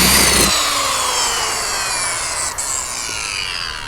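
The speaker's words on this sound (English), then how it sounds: "let the saw blade do the work" A jigsaw cutting through wood, a loud close buzzing rasp that starts abruptly and holds steady for a few seconds, slowly easing in pitch as the blade works through.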